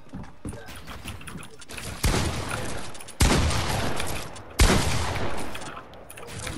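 Fortnite gunfire bursts out in bright broadband blasts, with several loud shots and rapid volleys near 2, 3.2 and 4.6 seconds over busy game noise.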